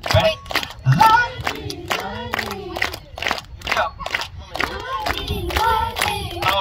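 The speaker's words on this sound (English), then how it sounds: "We're gonna go clap, clap, clap, clap. And now as loud as you can." Children clap their hands loudly in a quick run of sharp, irregular claps with a few shouted voices mixed in, close and energetic.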